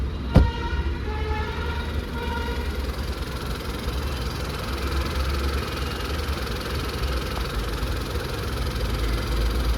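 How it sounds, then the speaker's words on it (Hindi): A Hyundai Venue HX8 turbo petrol DCT engine idles quietly and evenly for several seconds, with a sharp click just after the start and a faint, steady low rumble throughout. "अब देखते हैं इंजन में आपको कितनी कुछ वाइब्रेशंस वगैरह मिलती हैं"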